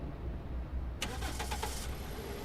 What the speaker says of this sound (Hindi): मुझे श्रेया की कार की आवाज आ गई